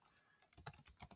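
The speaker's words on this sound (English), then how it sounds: "So I just type in a password that I can remember." Brief burst of typing on a Chromebook keyboard as a password is entered, a handful of soft, close key taps in quick irregular succession, with no speech.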